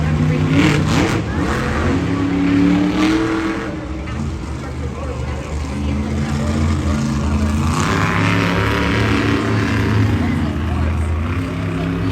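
Monster truck engines at the Monster Jam World Finals race roaring loudly off the starting line and accelerating with shifting pitch, under continuous commentator talk.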